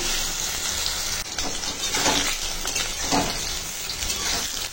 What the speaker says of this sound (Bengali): মাছ যেরকম ভাজি আমরা ওরকমই তেলের মধ্যে ভালো করে ভেজে নিয়েছি।